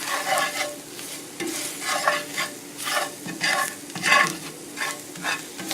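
Gravy for liver and onions is stirred in a frying pan with added oil, giving a steady run of scraping, swishing strokes roughly every half second over a soft sizzle, close by, with no talking.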